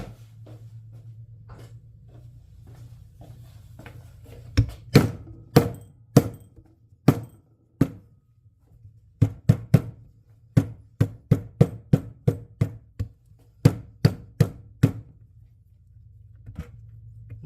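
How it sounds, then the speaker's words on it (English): A hammer repeatedly strikes leather binding on a handmade leather case to flatten it, sharp close knocks coming in irregular clusters after a quiet start, with a low hum underneath. "I'm going to probably flatten this with a hammer"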